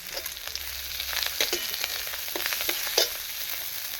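Onions sizzling and frying in a pan, with chopped coriander leaves and green chillies just added; a steady crackling hiss with a few stirring scrapes, close and fairly quiet, no voices.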